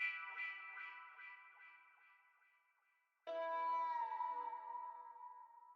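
Two melodic one-shot accent samples from a pain-style accent kit play back in FL Studio: a fading, wavering tone with echoing repeats, a brief gap, then a second louder sustained harmonic note that holds steady to the end, no voices.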